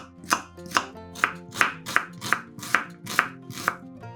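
A knife chops an onion into cubes on a cutting board with about nine crisp, evenly spaced thuds. The chops are close and moderately loud, and no one talks.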